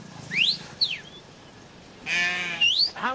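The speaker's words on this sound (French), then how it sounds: "Ça en fait des chèvres." Goats in a large herd bleating on a road in Pakistan, with several sharp rising and falling calls in quick succession, fairly close and loud, then a longer wavering bleat.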